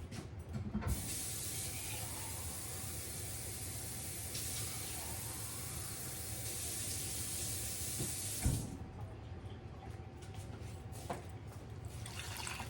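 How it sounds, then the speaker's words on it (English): Water pours steadily from soup cans into a casserole dish as pork chops and rice are prepared, a continuous close splashing and trickling that carries on for several seconds before a brief bump near the end. "One and a half cans of water going in"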